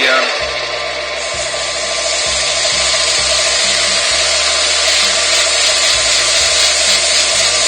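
A burnt olive ash bowl spins on a wood lathe while a handful of wood shavings is pressed against it to burnish the surface, making a loud, continuous rushing hiss over a low motor hum with no speech.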